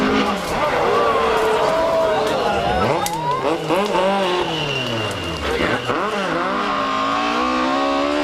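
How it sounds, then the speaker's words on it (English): A rally car spins out on a gravel stage at a 2004 Carlow event, its engine note swooping and revving under a commentator's voice, close and loud with crowd noise behind. "Having a spin and thrilling the spectators is Michael Curran from Meath"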